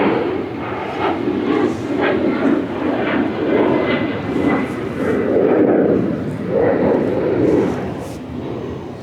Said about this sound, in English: There's a plane starting.